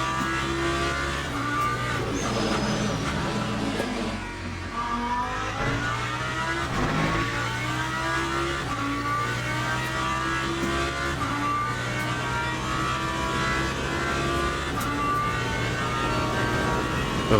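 Race car engines roar in the Le Mans Ultimate racing game during a night race, a McLaren running close behind: a steady, loud, droning engine whine that rises and falls with shifts and revs, with no talking.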